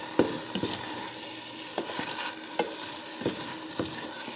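Beans and rice with cabbage are stir-fried in a pan: a steady close sizzle broken by repeated sharp scrapes and clacks of the utensil, roughly one every half second to second.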